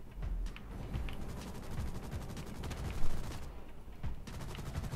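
Rapid bursts of gunfire in the zombie helicopter video game DustOff Z, a dense rattling fusillade with one louder shot near the middle, continuous throughout and fairly quiet.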